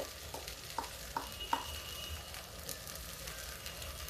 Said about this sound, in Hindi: और थोड़ी सी इसी भूनने में ही हींग डाल देते हैं।